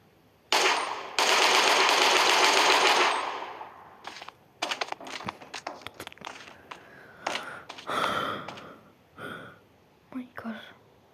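Bursts of rapid automatic gunfire in a video game, one long sustained burst then scattered shots and short volleys, with breathy voices and small sounds between.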